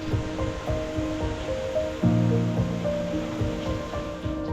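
Water flows steadily at an outdoor spot over stones, a continuous rushing wash with some faint tonal hum mixed in, fairly near and without talk.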